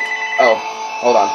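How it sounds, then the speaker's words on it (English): A telephone rings twice in quick electronic bursts indoors, close and clear, while someone speaks briefly over it. "That was the phone"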